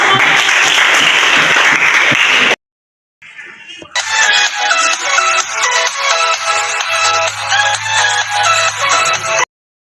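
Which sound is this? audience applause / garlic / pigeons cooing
audience applause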